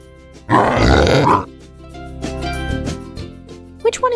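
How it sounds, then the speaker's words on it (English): A pig grunts loudly in a rough, throaty burst lasting about a second, followed by quieter snuffling grunts and a few short sharp squeals near the end. "Pig."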